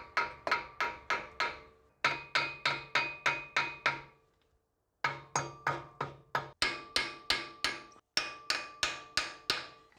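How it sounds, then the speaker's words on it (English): Sharp metallic hammer blows on the front wheel hub flange of a Toyota Land Cruiser 100 Series to free its cone washers, in quick bursts of four to six strikes, loud and close, with short pauses between groups. "use a combination of hitting it with the hammer and then tapping on the flange itself"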